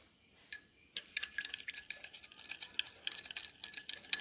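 Ginger juice, lemon juice and salt being stirred together in a small dish, giving a steady run of quick, light clinks and scrapes of a spoon, close and fairly soft, with no talking.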